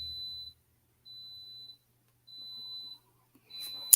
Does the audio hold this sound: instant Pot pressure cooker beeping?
yes